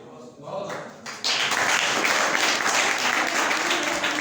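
An audience in a college hall breaks into applause, a scattered start that swells into loud, dense, sustained clapping from a large crowd.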